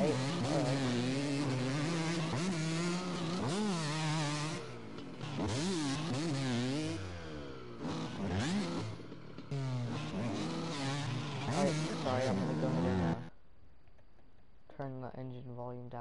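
Car engines revving in a PS4 racing video game, a steady loud drone with rising and falling pitch sweeps through most of the clip, cutting out briefly near the end before resuming more quietly.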